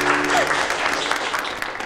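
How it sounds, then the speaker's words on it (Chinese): A gathering of students breaks into applause to congratulate their society's president. The brisk, dense clapping from a small indoor group is sustained throughout, with a brief voice at the start. "鼓掌"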